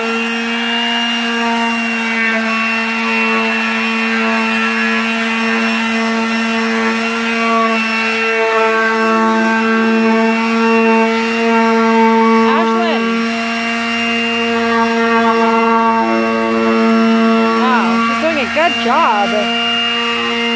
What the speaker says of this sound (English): sanding the paint off of our new countertop